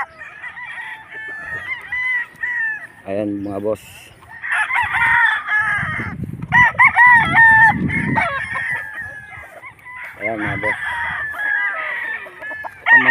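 Several gamecocks crow loudly and repeatedly nearby while hens cluck in between, and someone speaks briefly under the birds.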